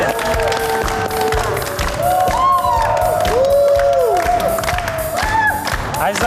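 A studio audience at a televised dating show applauds and cheers loudly and continuously, with music playing underneath throughout.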